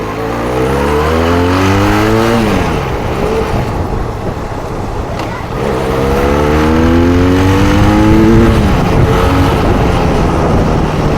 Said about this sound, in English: it's the same exhaust which every Benelli gets.